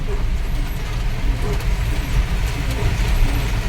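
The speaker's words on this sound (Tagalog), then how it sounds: "Ayan, matraffic dahil sa maulan." Cars, buses and trucks crawl through heavy rain on Mindanao Avenue. A loud, steady low rumble of engines blends with the hiss of wet tires and rain, up close and continuous.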